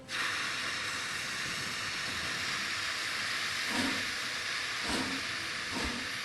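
Train breaking through avalanche snow in the Murder on the Orient Express video game, a steady loud hissing roar of steam and rushing motion, with a few soft low thumps late on and no talk.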